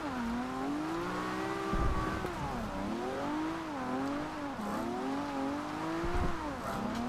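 A 2000GTR Nissan Skyline drifting in Forza Horizon 2 holds a steady, loud engine wail whose pitch rises and falls with throttle blips and shifts, mixed with tire squeal, with no one talking.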